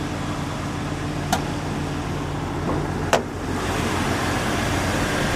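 Four-liter inline six engine of a 2000 Jeep Cherokee XJ Limited idling with the hood up, a steady even hum with two faint clicks over it.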